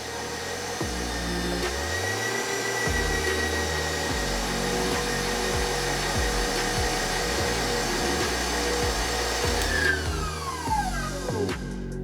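An 8-ounce block of mozzarella cheese is shredded, with a continuous loud whirring, rasping drone and rhythmic thumps repeating throughout, shifting in pitch near the end.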